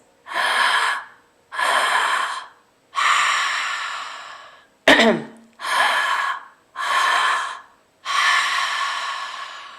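Two rounds of mouth breathing, each two quick sharp inhales followed by a longer sighing exhale, with a brief knock between rounds.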